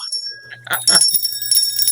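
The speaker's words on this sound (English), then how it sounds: "Oh, bells. Bells are good too." A bright bell rings a few times in quick succession, clear and close, with a low steady hum underneath.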